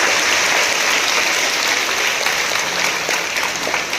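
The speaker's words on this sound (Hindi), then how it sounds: "सो क्लैप फॉर योरसेल्फ, जोरदार तालियां दीजिए" Dense, steady applause from a school assembly audience at a Diwali pledge gathering, a loud continuous wash of many hands clapping with little talk.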